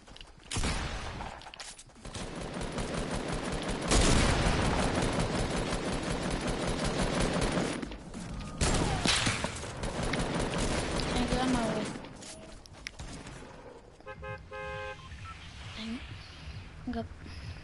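Fortnite gunfire: a long, dense burst of rapid shots fills most of the stretch, with brief gaps and a few lighter game beeps near the end, while a player talks over it.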